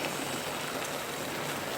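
Steady, dense rain pouring down in a continuous hiss, loud and unbroken throughout, with no voices.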